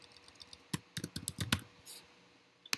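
Quick bursts of key presses on a computer keyboard, close and crisp, as a short folder name is typed, with a brief pause and one last tap at the end.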